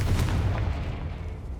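A Confringo blasting spell detonates in a cave in Hogwarts Legacy, a single deep boom with a heavy low rumble that fades slowly over a second and a half, no voices.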